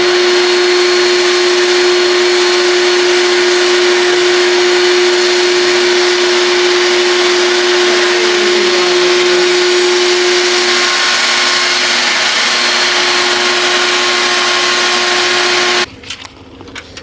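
A Harbor Freight paint spray gun used on a house exterior gives a loud, steady hiss with an even motor drone running almost unbroken for about sixteen seconds, then cuts off abruptly near the end.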